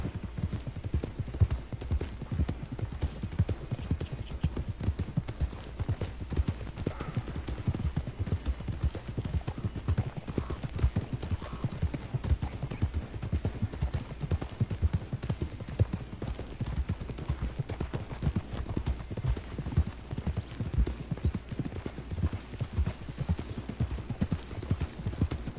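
Horse hooves clip-clop in a steady, continuous rhythm as a horse travels through open country in Red Dead Redemption 2, close and unbroken from start to finish with no voices.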